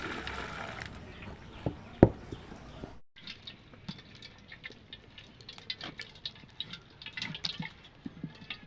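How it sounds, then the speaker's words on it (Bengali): Water drips and trickles from boiled taro leaves tipped into a basket, an irregular patter of drops close by after a brief louder splash, with no talk. "নিয়ে একটা ঝুড়ির মধ্যে ঢেলে দিলাম"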